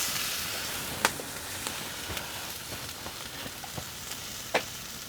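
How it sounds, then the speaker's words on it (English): Tri-tip steaks sear over a post oak fire, giving a close, constant sizzle with occasional sharp pops and crackles. "I'm just going to lay this down as far as it'll go, let it heat up a little bit, and then we'll sear these tri-tips off."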